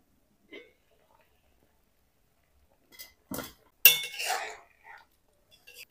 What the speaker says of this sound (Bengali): এখন ঢাকনা খুলে দেখে নেব।